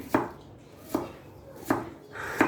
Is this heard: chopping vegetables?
yes